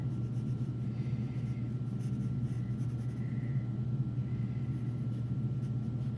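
Drawing on paper: a faint, continuous scratchy pencil stroke over a steady low hum, close and quiet with no voices.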